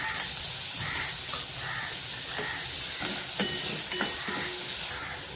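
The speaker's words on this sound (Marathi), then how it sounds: "मीठ टाकलं तर कांदा आपला लगेच भाजतो" Onions with salt fry in oil in a pan, a continuous close sizzle and hiss broken by a few scraping stir strokes, with no voices.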